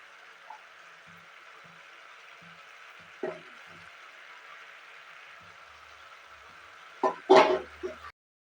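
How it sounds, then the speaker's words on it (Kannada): Spiced vegetables for vegetable pulao frying in a pan, a soft steady sizzle with a few light stirring clatters and a louder scraping burst near the end. "ಈಗ ನೋಡಿ ಇದನ್ನು ಒಂದು 2-3 ನಿಮಿಷಗಳ ಕಾಲ ಫ್ರೈ ಮಾಡ್ಕೊಳ್ತಾ ಇದ್ದೀನಿ"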